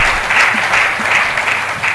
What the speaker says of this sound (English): I think we should give a resounding round of applause to